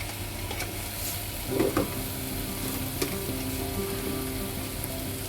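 Ginger and turmeric sizzle in a little oil for chana masala ghugni, a steady close crackle and hiss that swells briefly as they hit the pan.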